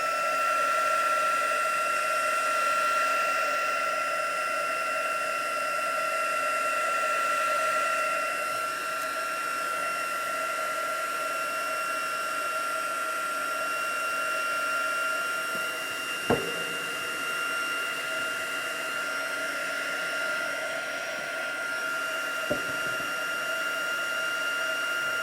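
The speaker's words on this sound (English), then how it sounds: "So let's just heat set that quickly." Heat gun heat-setting paint in an art journal, a steady close whining blower hum with tonal whistle holding throughout, a couple of faint clicks near the end.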